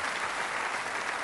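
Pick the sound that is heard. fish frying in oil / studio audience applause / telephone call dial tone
studio audience applause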